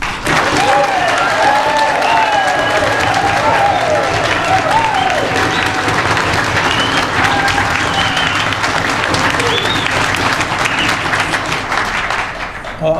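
An audience at a debate meeting in Franklin claps loudly and continuously, dense applause with a few scattered voices rising over it before fading slightly at the end.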